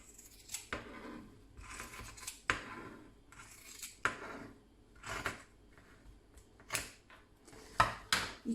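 Scissors snipping through folded clothing fabric, close and crisp, a series of separate cuts with short pauses between, roughly a dozen sharp strokes with no talking.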